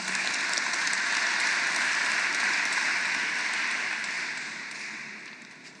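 A ceremony audience applauds in a civic hall, producing a dense, even roar of many hands clapping that holds steady for several seconds before tapering off toward the end.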